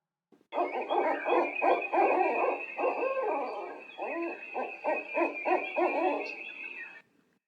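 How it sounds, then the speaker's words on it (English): An owl hoots repeatedly in a steady series of soft, low calls, clear and alone against a quiet background. "Here and there, you hear the lonely hoot of an owl."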